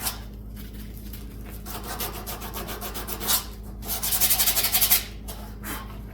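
Fine grit sandpaper rubs back and forth over the nose of a whitetail deer taxidermy form, a close, soft scratchy rasp in short repeated strokes that quicken and grow louder near the end.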